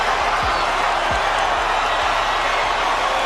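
Large crowd at the Canelo vs Scull boxing fight in Saudi Arabia, a continuous broad roar of many voices with faint low thumps beneath, steady and fairly loud with no single voice standing out.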